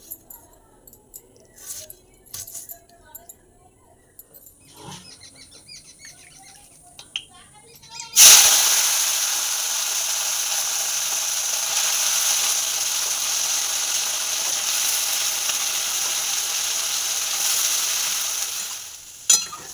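Potatoes sizzle loudly in a hot pan, a steady bright frying hiss that bursts in suddenly after a quiet stretch of faint background noise and holds evenly until the end.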